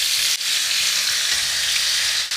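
Cherry tomatoes hit hot fragrant oil in a pan and sizzle loudly and close, a bright continuous hiss with two brief dips, and nobody talks.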